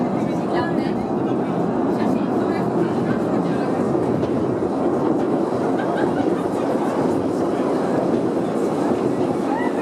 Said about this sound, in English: for our train ride into the mines.